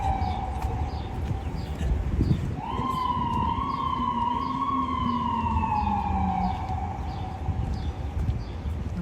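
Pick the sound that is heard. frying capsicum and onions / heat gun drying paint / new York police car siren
new York police car siren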